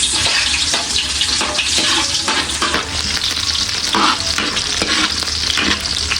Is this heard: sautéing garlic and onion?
yes